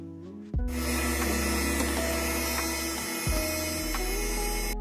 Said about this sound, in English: Now we're going to add in our melted butter. We're going to blend that until it's well combined.